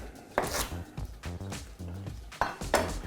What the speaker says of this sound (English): Just chop it in half